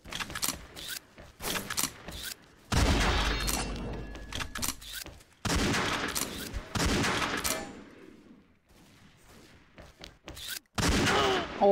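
Sniper rifle fire in an XSHOT deathmatch game, heard as a few sharp, loud cracks separated by pauses, with some clattering and mechanical weapon handling in between.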